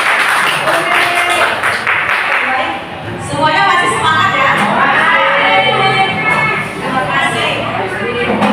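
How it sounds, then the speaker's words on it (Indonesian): Audience applause at an Indonesian teachers' presentation session, loud and sustained clapping mixed with cheering and shouting voices across the whole stretch. "Berikan tepuk tangan sekali lagi."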